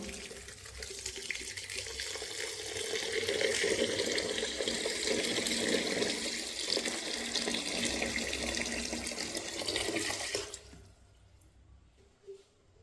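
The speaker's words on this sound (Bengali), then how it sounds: "এখন আমি তাহলে এতে পরিমাণ মতো জল দিয়ে দেব।" Water pours steadily into a pot of khichuri with cut potatoes, a continuous close splashing rush lasting about ten seconds before stopping abruptly, followed by faint quiet.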